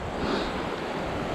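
Waterfalls and rapids rush steadily in a conservation area, a continuous broadband roar of moving water without breaks.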